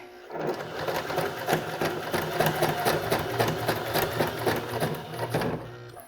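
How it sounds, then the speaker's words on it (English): A sewing machine stitches along the edge of cork fabric with a long stitch, running steadily at close range in a fast, even rhythm of needle strikes for several seconds with no talk. "So you can just put it underneath the presser foot and continue sewing along the edge."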